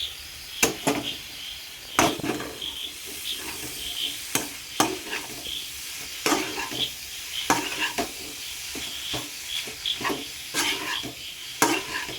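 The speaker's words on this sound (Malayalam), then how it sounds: "പിന്നെ നമുക്ക് ഫ്രൈ ആയിട്ട് ഡാർക്ക് കറുപ്പ് കളറിൽ വരണം അല്ലേ" Crow meat fries in a pan over repeated stirring, with a sizzle under regular loud scraping and clattering strokes of a spoon against the pan, several per few seconds.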